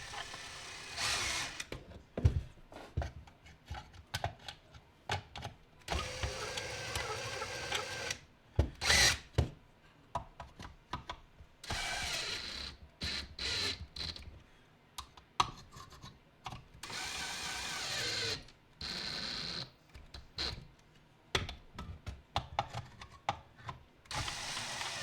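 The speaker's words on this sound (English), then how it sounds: "I don't try to tighten it too much with the drill." A power drill whirs in repeated short bursts, starting and stopping as screws are driven during a hot tub pump seal and bearing replacement, with quiet pauses and handling sounds between.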